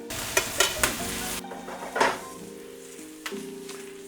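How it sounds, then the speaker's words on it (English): Garlic cooks in brown butter in a pan, producing a close, crackling sizzle with sharp utensil clinks and scraping strokes early on, then a softer, steady frying hiss with an occasional knock, and no one speaking. "Brown butter is happening, and we're gonna go ahead and hit the garlic first."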